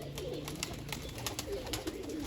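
Pigeons coo softly near a rooftop trap net, low repeated calls with light fluttery or shuffling sounds at a moderate distance and no talking.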